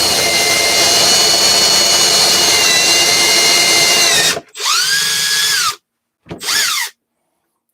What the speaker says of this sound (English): What I don't want to do is obviously don't want to drill through.